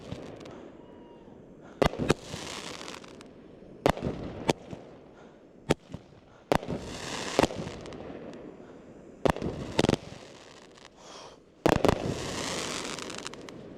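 Fireworks go off during a firework show, with about a dozen sharp, loud bangs spaced irregularly over a continuous crackling, hissing background.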